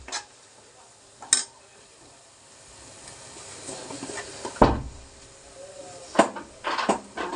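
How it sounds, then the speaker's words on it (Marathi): Chicken liver cooking in a pan for Malvani kaleji sukka as spices are mixed in: a low background sizzle broken by several sharp scrapes and clinks of a spoon against the pan, close and intermittent, with no voices. "आता आपण घरातले सगळे मसाले त्याच्यामध्ये मिक्स करूया."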